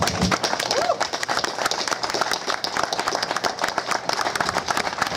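Steady, dense clapping from a ceremony audience at a trading card event, loud and continuous throughout with no pauses.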